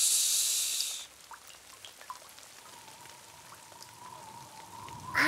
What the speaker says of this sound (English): All I hear is rain.